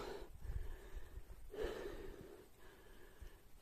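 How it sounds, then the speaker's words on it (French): A hiker breathes heavily, out of breath partway up a steep trail in New Zealand; a few loud, rasping gasps and exhales rise and fall close to the mic, with no talking. "Je suis déjà essoufflée, naturellement."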